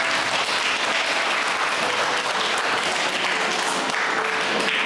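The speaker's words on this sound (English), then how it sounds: "Let us give them a big round of applause." Audience applause at a school co-curricular event, dense and continuous for the whole stretch, loud and even, with no voices over it.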